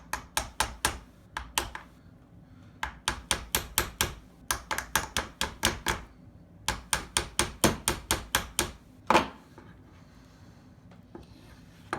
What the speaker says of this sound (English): I'm back with a hammer.